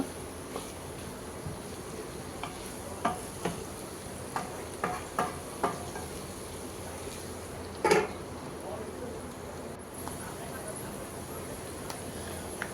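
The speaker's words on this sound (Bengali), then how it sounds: "তো ভাজিটা আর একটু ভাজা ভাজা হবে" Vegetables sizzle softly in a pan, with occasional clinks and scrapes of a spatula stirring, faint and continuous.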